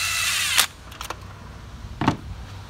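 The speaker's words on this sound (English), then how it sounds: "I'm just going to use the gun just to run the threads down," An impact gun runs spark plug threads down in the 2.7 engine of a 2006 Chrysler 300, with two or three short, sharp bursts separated by quiet, close and fairly loud.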